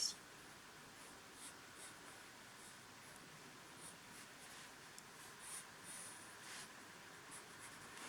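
A pencil or pen drawing the outline of a cup on paper, a faint, close scratching with soft strokes that come and go against a quiet room, with no talk.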